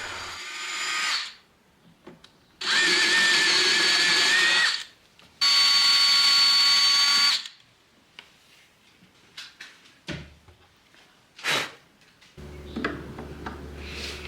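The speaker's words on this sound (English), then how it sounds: "It's now time to drill the holes for the dowel in the top piece." A power drill bores dowel holes into a wooden top piece in three sustained, loud whirring bursts, each lasting about two seconds, separated by quiet handling clatter and ending with a low mechanical hum.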